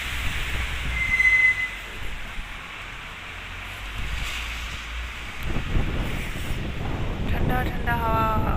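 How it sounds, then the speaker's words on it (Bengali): Cool wind gusts across a rooftop during light rain in Saudi Arabia, a steady rushing buffet on the microphone that swells and eases, with faint traffic below and brief talk. "ঠান্ডা ঠান্ডা হাওয়া।"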